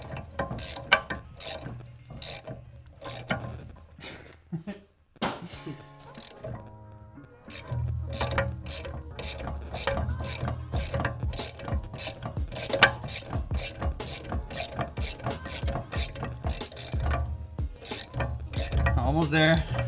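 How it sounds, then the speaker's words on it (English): Ratchet spanner undoing the short shifter bolts on a BMW E36, a dense string of rapid, close metallic clicks in repeated strokes with a brief pause partway through. "Put your spanner on if it's a ratchet spanner."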